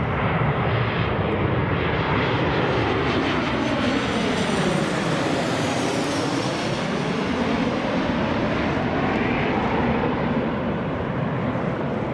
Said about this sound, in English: we're just going to look at this Jet 2 737 that's just landed.